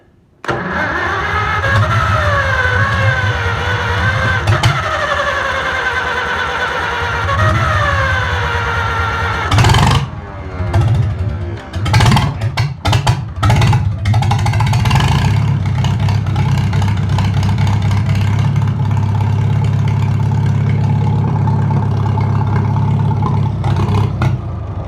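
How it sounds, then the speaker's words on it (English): An engine that has sat for 15 years cranks repeatedly with a rising and falling starter whine, sputters through several uneven catches, then fires and runs as a steady, loud close idle. "and I'll try cranking it again"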